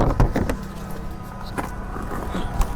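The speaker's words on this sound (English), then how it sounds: "You can really hear that power steering pump." A car's power steering pump whines under a running engine, a rough, mechanical drone with clunks and knocks scattered through it, close and fairly loud.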